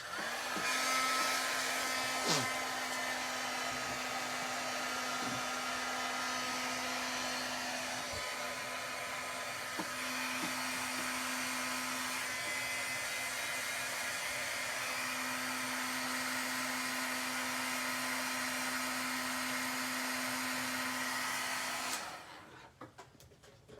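A heat tool blows over embossing powder on a holiday gift tag. It runs as a steady, close whirring hiss with a constant hum for about twenty seconds, then cuts off.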